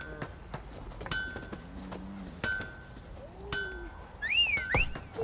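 Horse hooves clip-clop in the video game The Witcher 3: Wild Hunt, a sparse, uneven series of sharp hoof knocks, fairly faint, mixed with soft whistles and a few clinks of tack.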